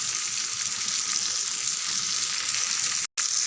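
Whole fish sizzle steadily in hot oil with curry leaves, a loud, close, even crackle that drops out to a brief silence near the end before resuming, with no speech.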